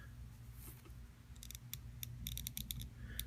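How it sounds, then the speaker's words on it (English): Small scissors snip butt sections of material while tying a Keel Crab permit fly, a run of crisp close snips in quick bursts over a low steady hum. "Let's cut these butt sections off."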